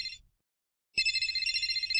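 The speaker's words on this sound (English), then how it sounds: "There's a phone call." Electronic phone ringtone from a children's video game, a bright repeating ring that cuts out briefly, then resumes loudly and steadily with no talk over it.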